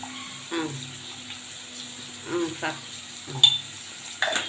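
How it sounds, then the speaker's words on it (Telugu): Onions with salt stirred as they fry in a pan for egg curry, a low sizzle punctuated by a few scraping stirs and one sharp clink of a spoon. "తగినంత సాల్ట్ వేసేసి బాగా కలపాలి"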